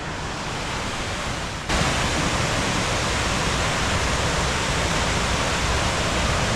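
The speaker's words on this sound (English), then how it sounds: "as you can probably tell from the sound, I have made it up to the falls area" Water tumbling over a dam at a waterfall, a loud, steady roar of rushing spray that grows fuller after a couple of seconds and continues unbroken, with no voices.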